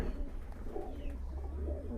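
Giribaj pigeon in a loft, soft low cooing in short repeated swelling phrases, close but quiet over faint background hiss.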